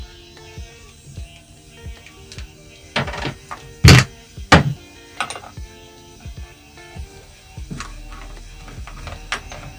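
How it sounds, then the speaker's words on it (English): A bridge cable between two batteries being disconnected during a lithium battery installation, heard as a string of close clicks, clunks and metallic taps of terminal hardware, with a couple of sharper knocks near the middle. "So I'm just going to disconnect the bridge between the two"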